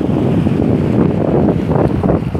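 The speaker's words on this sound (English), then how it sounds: "So here's all these waves" Ocean waves rolling in at a busy beach, with heavy wind buffeting the microphone into a loud, low, continuous rumble that swells slightly in places; no voices are audible.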